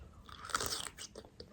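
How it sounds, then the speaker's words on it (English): Someone bites into a pickle, producing a sharp, close crunch followed by a few softer chewing crackles, with no speech. "Did you hear that crunch?"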